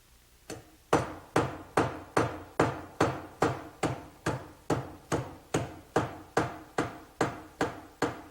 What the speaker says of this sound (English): With the shaft supported to prevent bending,